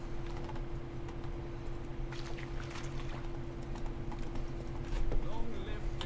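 Roach, a horse in The Witcher 3, clip-clops along at a steady walking rhythm, the hoofbeats sitting under a constant in-game ambient hum with a few louder thuds near the end; a voice is present.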